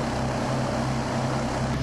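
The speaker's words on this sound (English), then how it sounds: "Airplane engines should make quite a difference." A wooden speedboat powered by airplane engines drones with a loud, steady, continuous roar and a propeller-like hum, near and unbroken, with no speech over it.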